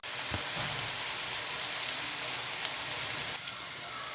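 Lahori-style mutton karahi fries with yogurt, ginger and green chilli, producing a continuous hiss of sizzling at moderate level that stays steady throughout.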